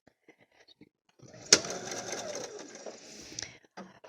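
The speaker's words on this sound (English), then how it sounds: "I'm going to get this underneath my foot and sew for just a little bit" A sewing machine stitches a fabric face mask in one short close run of rapid whirring. Faint clicks and handling noises come before it, and there is no talking.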